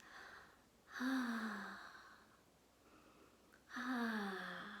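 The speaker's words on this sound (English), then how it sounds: "a deep open mouth breath with some sound" Two deep, open-mouthed ocean breaths drawn in and let out with a soft, audible rush, close and quiet, separated by a pause.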